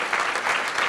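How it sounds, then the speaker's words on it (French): Audience of about 600 people at a live tech event applauding, a dense burst of clapping filling the room, loud and close. "Applaudissez-vous tous d'être venus aujourd'hui."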